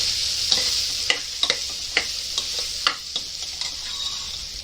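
A spoon stirs palak dal in a sizzling pan, scraping taps at an irregular pace over a steady frying hiss, close and clear with no voices.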